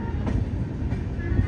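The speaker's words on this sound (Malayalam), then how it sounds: "ഗാന്ധിധാമിലേക്ക് ഇതാ ട്രെയിൻ എത്തുകയാണ്." The Ala Hazrat Express rumbles into Gandhidham junction, a steady close rolling drone with faint rhythmic wheel clicks.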